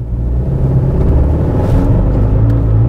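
A 2018 Honda Accord 1.5-litre turbocharged engine runs under light load while misfiring, a loud, close, low rumbling drone with slight unevenness and no talk.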